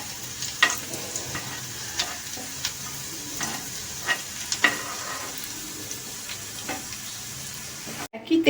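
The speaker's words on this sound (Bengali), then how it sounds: "তেলের মধ্যে দিয়ে ভেজে কিন্তু আমি রসুন কুচিটা তুলে নেব তেল থেকে।" Chopped garlic fries in hot oil in a pan, giving a steady soft sizzle with a few light scraping stirs, quiet and close, and a clatter near the end.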